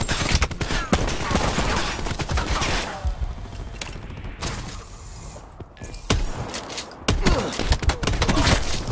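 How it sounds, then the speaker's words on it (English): Cluster grenade explosions in Call of Duty Black Ops 4 multiplayer: a dense, loud string of rapid blasts and crackling bursts, easing briefly before several more sharp explosions hit in close succession. "Throwing cluster grenade."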